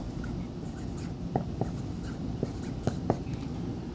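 Pen strokes on paper during a calculus lesson, a handful of short scratchy marks spaced irregularly over a steady low room hum, fairly close and quiet.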